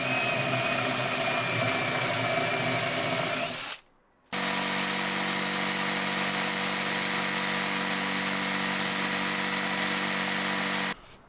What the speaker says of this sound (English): We're going to drill a hole and we're going to use a jigsaw